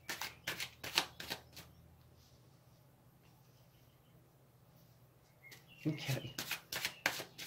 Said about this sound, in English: Let's get this shuffled back up really good.